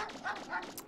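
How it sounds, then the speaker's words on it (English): Dogs bark in the video game MegaMan Legends, a few quick yapping barks over roughly a second, moderately loud against a steady game background. "barking dogs"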